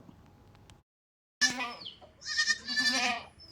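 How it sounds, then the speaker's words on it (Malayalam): A crossbreed goat in its first kidding, a good milker, bleats nearby: after a brief quiet gap, one short call is followed by a longer wavering, quavering bleat, fairly loud and alone. "ഫസ്റ്റ് പ്രസവത്തിലുള്ള ഒരു ക്രോസ് ബീഡ് ആട് നല്ല പാലുള്ള ആടാണ്"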